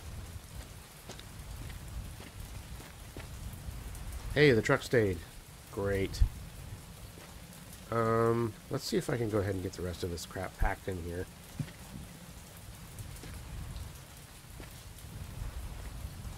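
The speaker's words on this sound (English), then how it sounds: "And it's raining" Steady rain falls in the video game Mon Bazou, a continuous soft patter with faint rumbles underneath, heard alone at first and later under someone talking.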